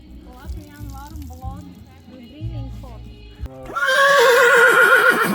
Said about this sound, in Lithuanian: Šis žirgas yra Latvijos kilmės, yra vienintelis šios kilmės varžybinis žirgas.